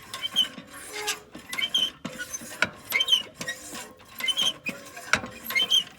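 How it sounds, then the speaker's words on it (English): An old hand pump at a Middle Bass Island cottage is worked in a regular rhythm, about one stroke a second, each stroke a squeaky, clanking mechanical creak with sharp knocks. "it's really hard to pump while holding the camera"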